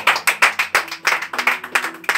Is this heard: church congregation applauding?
yes